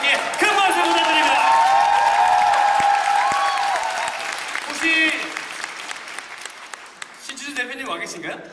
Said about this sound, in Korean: 관계자 여러분들께 큰 박수 부탁드립니다